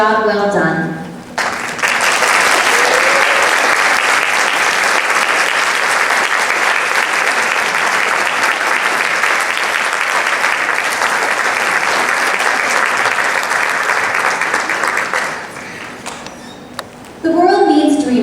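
Parents at the Miss Fridley pageant stand while the audience applauds them in a long, loud, sustained burst of clapping that swells in, holds steady for many seconds, then tapers off, with a voice speaking briefly at either end.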